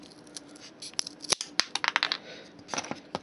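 Scissors cut pieces for a small catapult, giving a close series of sharp snips and clicks in an irregular rhythm with light handling noise between.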